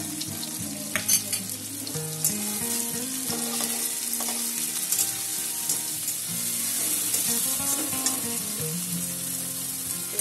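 Garlic paste and spices fry in hot oil for a Bengali chutney katla fish dish, giving a steady, close sizzle with stirring throughout and melodic tones playing alongside.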